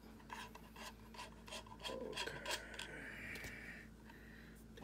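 Screwdriver unscrewing small screws on a 9mm Terminator barrel, a close steady rasping and rubbing of metal with light scraping strokes and faint squeaks, continuous for several seconds.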